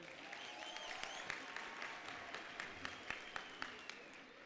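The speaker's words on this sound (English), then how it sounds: "Give them a round of applause for that" Steady audience applause and clapping at a Fort Hare university graduation ceremony, honouring the Fort Hare Choir, a dense even roar of many hands with a few sharper claps standing out, sustained throughout at moderate distance.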